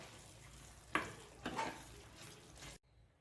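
Coriander being stirred into a stuffed eggplant and onion masala in a pan, giving a couple of short scraping stirs over a soft steady sizzle that cuts off abruptly near the end.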